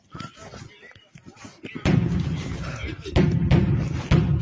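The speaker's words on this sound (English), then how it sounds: "There are some explosions in the distance." Distant explosions in war footage thud in heavy, booming bursts with sharp onsets, rumbling on after each hit. They come over low background noise and some talk.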